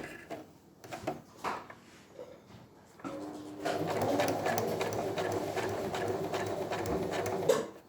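A sewing machine runs steadily while stitching along a line on a V neck facing, starting after a few seconds of quiet handling noises and continuing at moderate loudness to the end.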